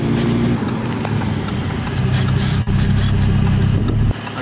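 Heard from inside or beside a Lamborghini Huracan Performante on its first ride, the cold engine is revved only partway, producing a loud, steady mechanical roar with a brief dip near the end.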